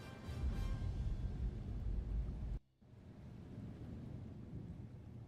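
Thunder rumble from a modded Halo 3 ODST game, a loud, steady low roar of storm and rain that cuts off abruptly midway, then resumes as a quieter rumbling wash.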